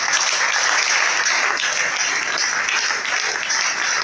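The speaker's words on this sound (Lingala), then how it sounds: "Acclamons le Seigneur." A congregation at a church service bursts into loud, dense applause, sustained clapping from many hands filling the room without pause.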